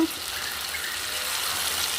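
Tempering spices sizzle in hot oil over a low flame, giving a continuous, even hiss of frying. The sound holds steady for about two seconds with no talking.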